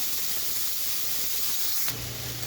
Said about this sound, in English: frying up our bacon